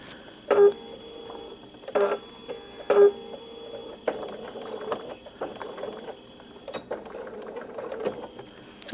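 A sewing machine stitches a quilt block in short bursts, three quick clattering runs near the start, then a longer steady whirring stretch of stitching with light mechanical clicks, close and moderately loud.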